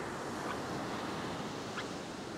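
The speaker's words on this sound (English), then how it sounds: "I've got waves breaking out the back onto a sandbar." Waves breaking onto a sandbar at a fishing beach, a constant broad roar of surf with faint hiss, no talk, steady throughout.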